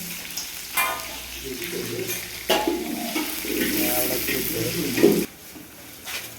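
Onion and green chili sauté in a pan as they are stirred, giving a continuous crackling sizzle with scraping spoon strokes and bursts of frying noise up close, and a faint voice now and then.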